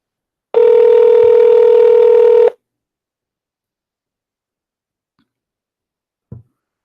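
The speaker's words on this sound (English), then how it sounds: "Let us call her again." Telephone call being placed: a loud, steady two-second tone sounds alone, then silence, followed by a faint brief click.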